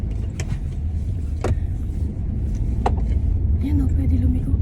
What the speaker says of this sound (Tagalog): Dito na kami sa sasakyan ngayon.